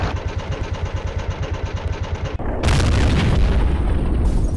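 A tank cannon in Men of War fires and hits a Russian tank: a rumbling idling engine pulses, then a loud booming blast erupts and spreads into a broad roaring wash of noise, with no talk.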